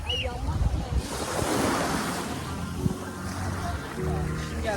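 Sea waves wash and roar onto the shore, with wind buffeting the microphone and brief faint voices.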